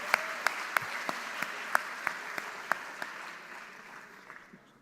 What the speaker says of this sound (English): One more round of applause for all our winners.